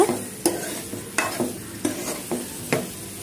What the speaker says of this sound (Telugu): అదిగో అలాగా యాడ్ చేసుకున్న తర్వాత కలుపుకోవాలన్నమాట.